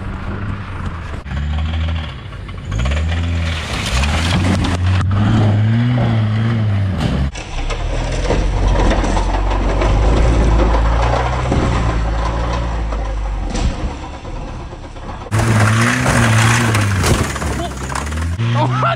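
A daily driver car accelerates hard with a loud, sustained engine roar that rises and surges, while excited voices shout over it.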